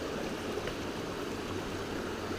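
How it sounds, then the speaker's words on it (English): Creek water flowing at a backpacking trail crossing, a steady, broad babbling rush close by with no clear voices over it. "here coming across the first little creek crossing"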